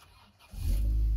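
A Citroën Xsara VTS engine catches on the first crank, then settles into a loud, steady, close-up idle rumble; the engine warning light stays on.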